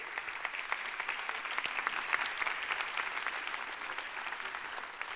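Audience applause at a 2024 New Year wishes ceremony, a steady, even patter of many hands clapping throughout, moderately loud and without talk.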